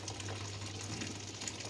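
Boiled lemon water is strained into a pot, giving a steady, continuous pouring and trickling wash of liquid over a low background hum, with no talking.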